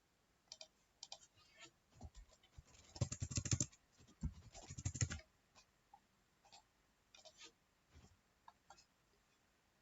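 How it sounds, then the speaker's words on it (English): Keys clicked on a computer keyboard while entering a networking command, quiet close taps in irregular bursts, a denser flurry of clatter in the middle, then sparse isolated clicks. "we need to type or enter this command"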